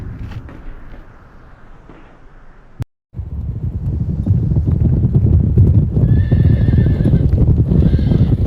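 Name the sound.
horses of the Australian light horse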